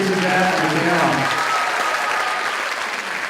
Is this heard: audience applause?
yes